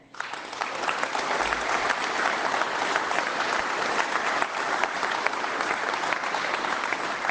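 A campaign rally crowd in Oakville claps steadily and enthusiastically, a thick continuous wash of applause that rises quickly and holds at an even level throughout.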